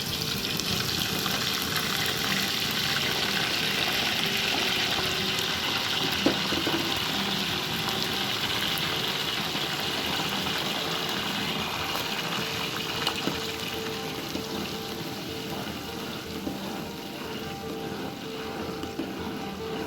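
Homemade aloe vera mixture poured into hot oil in a pan, a steady broadband sizzle and bubbling that holds evenly throughout with faint stirring clinks.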